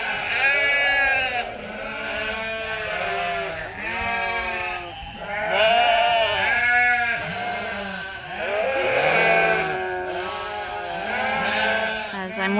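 Sheep penned apart on a sheep farm while they wait to be sheared bleat again and again, close and loud, their wavering calls overlapping one another with hardly a pause.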